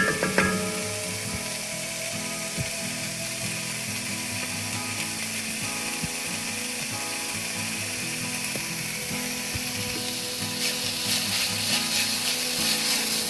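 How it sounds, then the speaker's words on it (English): Sliced leeks sweat in a pan for a leek and potato soup, then garlic goes in. A steady, close sizzle runs throughout, with scraping, ratcheting stir clicks and a slight swell in the sizzle near the end. "Allow the leeks to sweat a little bit, and then add garlic."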